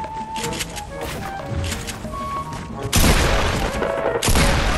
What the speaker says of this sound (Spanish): ¿Quién es el que dispara de lejos?